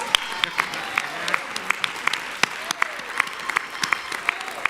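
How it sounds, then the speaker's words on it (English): An audience at a national town hall on reparations claps steadily, with sharp individual claps standing out over a dense, even wash of applause at moderate distance. "Stand up and give yourselves a round of applause."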